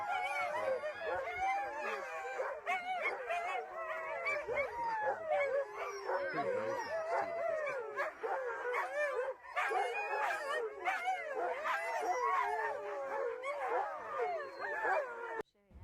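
Sled dogs on a dog sledding excursion howl, yip and bark in an overlapping chorus, many animals close by and loud, a continuous excited clamor without pause.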